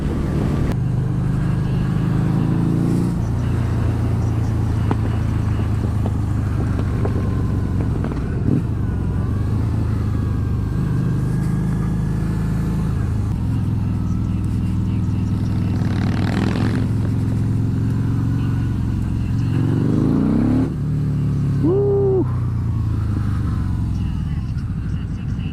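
A Harley-Davidson V-Rod motorcycle engine idles and revs, rising and falling with overrun pops, loud and close, while people talk over it.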